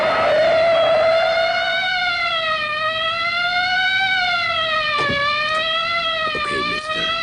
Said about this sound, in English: Don't you know a police siren when you hear one?